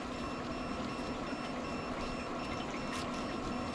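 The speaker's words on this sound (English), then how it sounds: "Don't worry about that beeping." A barbecue smoker's alarm beeps steadily after its lid was left open too long while brisket is wrapped, a thin repeating tone over constant background noise.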